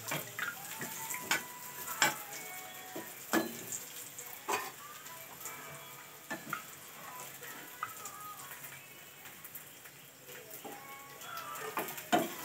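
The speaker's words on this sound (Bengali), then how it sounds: "করিলার ভাজা হয়ে গেছে লাল একদম" Bitter gourd fries quietly in a pan, a soft continuous sizzle broken by sharp clicks and scrapes of a utensil turning the slices.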